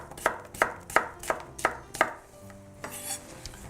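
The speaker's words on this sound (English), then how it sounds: "Cut a little piece there." A knife chops vegetables on a cutting board during corn chowder prep, six crisp, evenly spaced cuts close up, followed by quieter board and utensil clatter.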